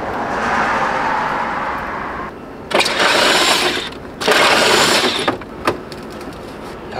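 A pneumatic impact wrench works on a rusty junkyard car during restoration, firing in two loud, rattling bursts of about a second each, with a short blip after, over a steady background hum.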